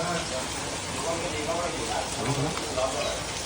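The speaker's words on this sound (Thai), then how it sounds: "แล้วฝนตกด้วย" Steady rain falls outdoors during an outdoor cooking session, a dense broadband patter with constant level, with people talking faintly underneath.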